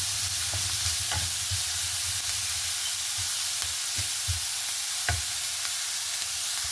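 Onions fried over a medium flame in a pan until golden brown for a Kerala achinga payar thoran, hissing steadily with repeated scrapes and clinks of stirring, close and alone.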